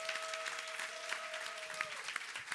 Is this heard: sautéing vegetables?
no